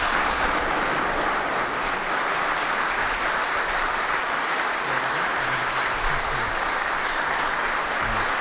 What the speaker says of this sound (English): Deserve that applause.